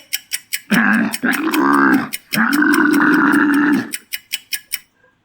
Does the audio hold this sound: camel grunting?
yes